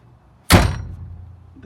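An LMTV truck door fitted with an aftermarket Toyota handle swings shut and latches with one loud, solid slam up close, followed by a fading low rumble.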